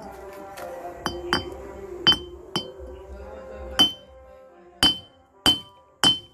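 Hand hammer strikes a diamond grinder disc in a tools shop, giving sharp metallic clinks with a ringing tone. About nine irregular hits sound close and fairly loud, with quiet handling noise between them.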